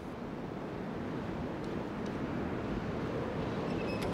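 Steady wind blowing by the sea on a lighthouse coast, a continuous broadband rush at moderate level with no voices, holding even throughout.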